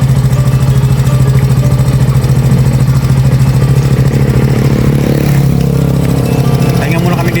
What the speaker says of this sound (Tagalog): Pahinga muna kami dito gawa ng umiinit na motor.